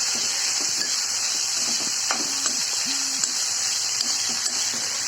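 Broad beans stirred and frying in a pan, a steady loud sizzle with soft scraping stir sounds and small clinks breaking through now and then.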